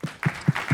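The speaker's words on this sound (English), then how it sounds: "Clap it up for families, not for me" A short burst of audience applause at a community event about guaranteed basic income, heard as a few rhythmic clap pulses over a soft crowd wash.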